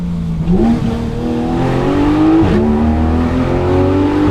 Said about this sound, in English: Oh, that's just a timeless GT3 RS sound.